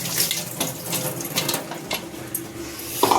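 A kitchen tap runs steadily while dishes are washed in a sink, a constant close hiss and splash of water with small clinks throughout, no voices.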